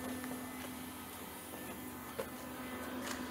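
Steady whining hum of a hydraulic cylinder extending on a Swiss Army trailer's mounting gantry, a constant tone with faint clicks, close and alone without talk.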